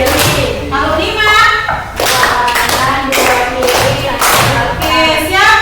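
Hands clap in a counting clap game, sharp claps and slaps landing in quick rhythmic groups, with voices counting along throughout.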